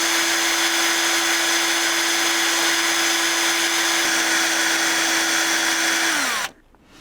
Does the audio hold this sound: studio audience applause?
no